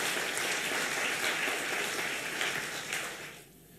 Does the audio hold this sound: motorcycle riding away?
no